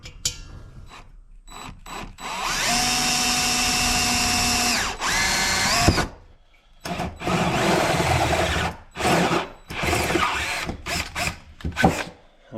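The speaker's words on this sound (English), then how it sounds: "I'm going to take the chamber back out and drill it." A power drill bores a hole through the combustion chamber of a diesel heater undergoing a waste-oil conversion, whining loudly and steadily for a few seconds, then cutting out and restarting in shorter bursts as the bit bites through the metal.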